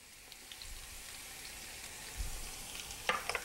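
Four or five cloves of minced garlic frying in oil, a soft, faint, steady sizzle with small crackles that build slightly toward the end.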